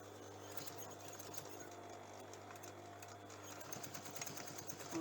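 A sewing machine back tacks a zip onto denim shorts, running with a steady low mechanical hum and a rapid needle clatter that stays faint and continuous throughout.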